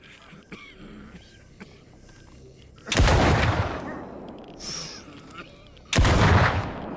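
Two loud gunshot blasts in a French-language video game set in the Zone, the first near three seconds and the second near six, each a sharp, booming report with a decaying tail over quiet ambience.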